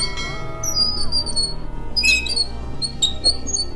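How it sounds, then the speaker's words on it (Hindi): A squeaking bicycle wheel rim gives high, thin squeals that repeat in an uneven rhythm, each one fairly loud and close, with no voices. "जो कि है साइकिल के रिम की आवाज।"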